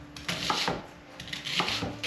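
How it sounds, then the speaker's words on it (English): Onion being chopped on a cutting board, a quick run of knife taps in two short bursts, close and fairly crisp, with no talking. "so we're gonna quickly chop up all our onion"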